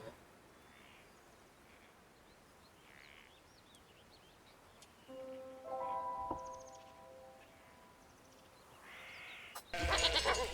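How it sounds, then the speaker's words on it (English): Faint ambient tones with a few short sheep bleats near the middle, then a loud burst of bright, chiming game-like sound at the end, from the video game Wytchwood. "sheep noise"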